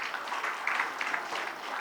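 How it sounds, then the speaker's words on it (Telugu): An audience at a Women's Day celebration claps in a brief, dense burst of applause, steady and moderately loud with no voices over it. "చప్పట్లు కొట్టాలి మీరు."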